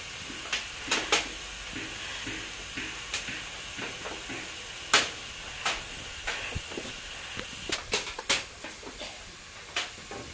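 Chili frying in a hot pan, with a steady sizzle and hiss broken by repeated scraping clinks of stirring at irregular intervals.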